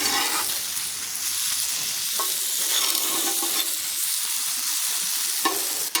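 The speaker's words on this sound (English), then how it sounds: "That just starts the onions releasing some moisture, and it helps them to brown up a little better." Onions with a pinch of salt sizzling and frying in a pan, a steady bright hiss with small crackles throughout, close and continuous with no voices.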